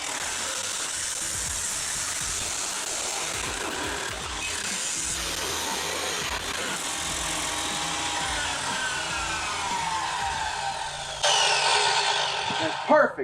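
A power tool cuts steel pipe, sawing at a muffler's pipe on a 2000s Chevy Suburban with an 8.1-liter V8, with a steady loud harsh drone throughout and a brief louder burst near the end.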